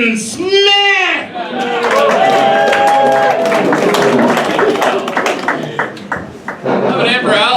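Comedy club audience applauding for comedian Ben Smith, a dense, sustained burst of clapping and cheering from a crowd that follows a brief loud announcement by a host's voice.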